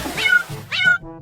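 A cat meows twice, rising and falling, close and clear, with a short pause between the calls.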